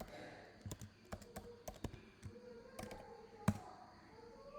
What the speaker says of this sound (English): It's asking for password. So let me type it.